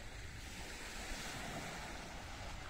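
Sea waves washing onto a cold shore, a constant low rushing surf mixed with wind buffeting the microphone, steady and fairly faint throughout.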